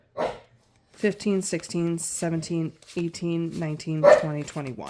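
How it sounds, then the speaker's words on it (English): Pet dogs playing in a home give brief barks and yips in the background, mixed under a person counting numbers aloud in a steady voice. "so sorry if you hear my dogs in the background"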